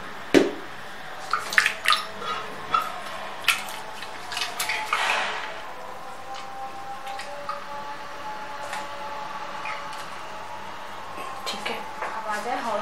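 Water is poured into a blender jug while green chutney is being made. Several sharp clinks of the jug come first, then a brief splashing pour, then a quiet steady hum.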